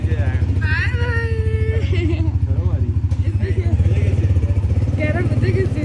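Motorbike ride on a street with food stalls, a steady pulsing engine drone underneath, while someone talks over it throughout.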